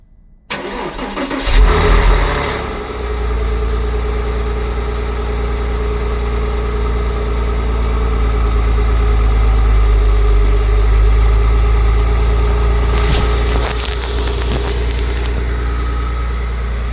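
A Porsche Boxster 986 engine cold-starts with a brief cranking whir that catches into a loud surge, then settles into a steady, close idle that continues to the end.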